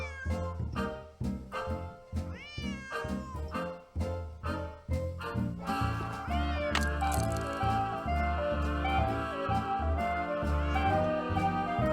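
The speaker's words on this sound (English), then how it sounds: "Otherwise, he'll just keep meowing." A cat named Yuri meows repeatedly in the Nancy Drew game Secret of the Old Clock, a string of loud, close, separate meows and caterwauls with musical backing and no speech.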